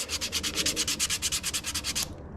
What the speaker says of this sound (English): I'm going to then just take the brake pad, rub over the top, get the gunk